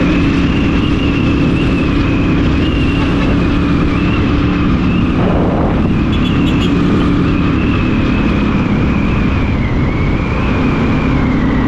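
A car cruises along a highway, giving a steady, unbroken roar of engine and tyre noise that stays at an even level throughout, with no talking.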